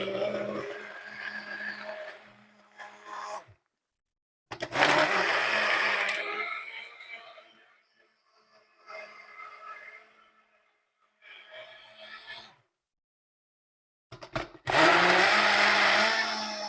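A blender whirs a protein shake made with whole eggs and egg whites in several loud bursts of motor noise separated by short pauses, close up and with no talk.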